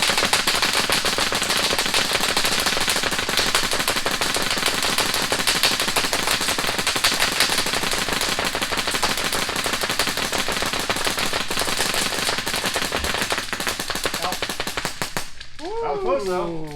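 A PolarStar airsoft gun fires in a fast, continuous stream of dense shots during a shooting race, loud and close, with the burst cutting off near the end.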